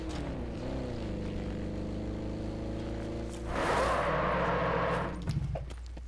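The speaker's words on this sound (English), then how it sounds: "Ooh, I hear a car." A video game car engine drones steadily throughout, rising into a louder revving surge midway before settling back down.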